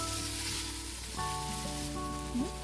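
Onions and diced butternut squash sautéing in olive oil and butter in a home kitchen pan, giving a steady, close sizzle with a soft frying hiss throughout and light stirring noises.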